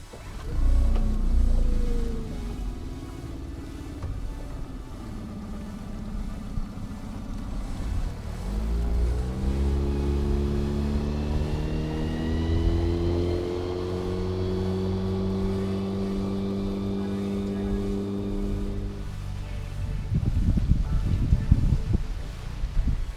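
A Whaly 370 boat's outboard motor is run at full throttle during a test, its drone climbing in pitch and then holding a steady high whine, with wind buffeting the microphone.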